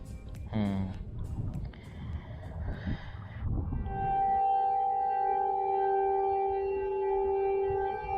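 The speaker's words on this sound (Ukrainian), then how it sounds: "В Чехії теж виють сирени. Але це перевірка." People talk at first, then a steady, droning civil defense siren test wail rises in the distance in Czechia and holds on without breaks.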